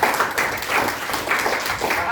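An audience claps together through the whole stretch, in steady, dense applause that comes close and fairly loud, with faint voices mixed in under the clapping.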